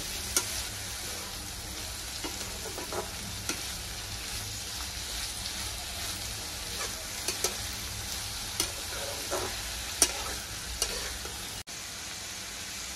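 Vegetables for noodles sizzle lightly in a pan, a soft steady frying hiss with scattered stirring clicks, quiet and close with no talk.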